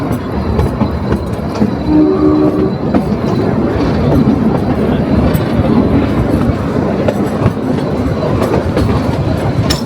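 The narrow-gauge Kalka–Shimla toy train rolls along steadily with a continuous rumbling clatter of wheels on track, loud and close, with no voices.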